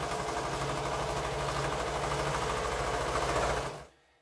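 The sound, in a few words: sewing machine doing straight sewing on quilt strip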